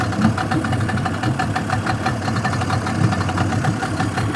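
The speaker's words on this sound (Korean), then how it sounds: "야마 투사이클 전동 타입 중고 엔진입니다." A used Yamaha 40 hp two-stroke outboard engine with electric start runs steadily on a test, a loud, close, rattling idle with a rapid even knock that continues unbroken.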